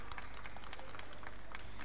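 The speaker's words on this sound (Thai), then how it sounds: "เสียงปรบมืออย่าให้ขาดนะคะ" An audience claps steadily to welcome association guests at the AITMA & IMTF Championship 2017, a dense continuous patter of many hands at moderate distance.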